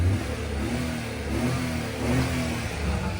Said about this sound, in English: sitting in here and revving it does sound like this